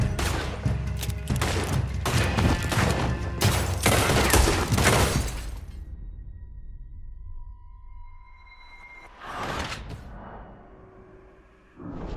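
Gunfire in Red Dead Redemption 2 rings out as a loud, rapid volley of overlapping shots over about five seconds, then echoing tails, quieter stretches and one more burst near the end.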